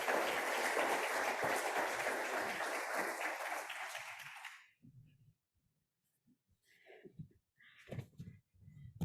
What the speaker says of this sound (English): give them a round of applause as they join the stage